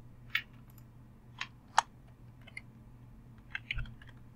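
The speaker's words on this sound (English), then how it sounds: "So I'm going to type in rainwater." Sparse keystrokes on a computer keyboard, a few soft, close clicks spaced irregularly over a quiet room hum while text is entered into a PowerPoint slide.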